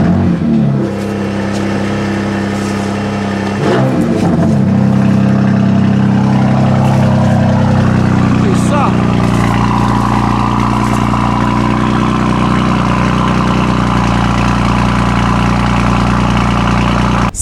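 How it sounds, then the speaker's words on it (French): A cold BMW M2 Competition with a remapped engine barks loudly to life with two sharp revs, then drops into a steady, rumbling high idle that holds close and strong to the end. "on va faire un petit cold start-up quand même, parce que là elle est bien froide, donc elle va faire pas mal de bruit de démarrage"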